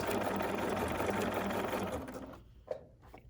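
A BERNINA sewing machine stitches a blind hem with a blind hem foot, running in a steady, close, rapid whir for about two seconds before stopping, followed by a few faint mechanical clicks.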